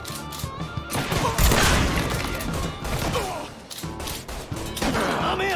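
Gunfire in the video game Mafia 3 during a chaotic shootout: dense, overlapping bursts and thuds run almost continuously at a loud level, with a heavy impact near the start and no clear gaps between shots.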